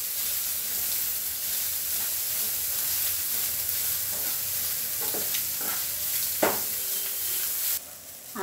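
Prawn fry with chilli powder is stirred in a pan, a steady close sizzle and hiss broken by several spoon scrapes and knocks in the later part, then a sudden shift near the end; nobody talks.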